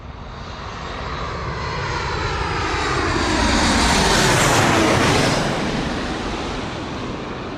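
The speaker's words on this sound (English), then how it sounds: "Ryanair coming in from Malaga, Boeing 737." A Ryanair Boeing 737 jet arriving from Malaga at Bristol Airport, a loud engine roar that swells and sweeps as it passes close overhead, then eases slightly while the rumble lingers.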